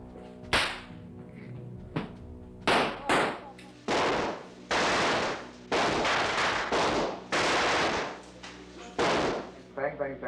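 A machine gun firing blanks on the Raiders of the Lost Ark film set lets off loud, sharp bursts in irregular clusters over about ten seconds, close and punchy, with brief voices between them.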